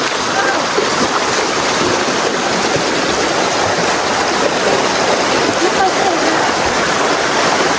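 A river rushes past in a loud, continuous roar of churning water. The broad, unbroken wash dominates the whole stretch, and no clear voices stand out.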